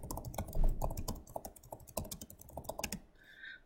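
Code being typed on a computer keyboard, a fast, steady run of close, crisp key clicks with no talking, then a short pause at the end.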